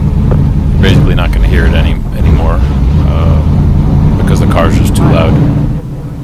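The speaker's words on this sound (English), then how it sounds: "You're basically not going to hear it anymore, because the car's just too loud." A NASCAR race car engine roars continuously at close range, a steady loud rumble that rises slightly toward 3,000 RPM before dropping off near the end, with voices underneath.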